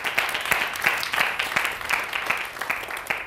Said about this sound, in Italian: facciamo un grandissimo applauso a Sara